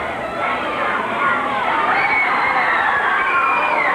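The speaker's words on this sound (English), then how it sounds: "We got a good crowd here, too. Another packed house." Packed crowd at a 1980s Pacific Northwest pro wrestling show in Seattle Center Arena, a dense, steady roar of cheering and shouting that swells slightly midway and fills the whole stretch at close, loud level.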